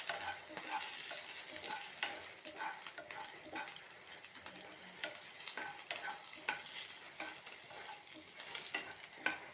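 Cashew nuts fry in hot oil in a pan and are stirred, producing a steady sizzle broken by repeated scraping strokes of the spoon, close and continuous, with no talk.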